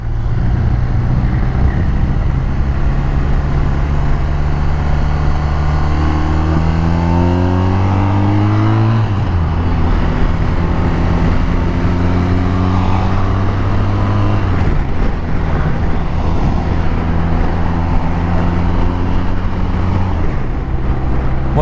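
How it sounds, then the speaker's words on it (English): A 2019 BMW R1250 RT motorcycle cruises on a highway, its boxer engine droning loudly and steadily with rising and falling pitch through gear changes, mixed with constant wind rush and no talking. "this is a 2019 BMW R1250 RT."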